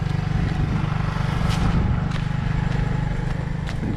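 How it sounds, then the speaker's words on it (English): A scooter engine idles fast, a rapid, steady low putter that stays loud and close throughout with faint scrapes and rattles on top, and no one speaks. "My bike is idling fast, so I had to fix that."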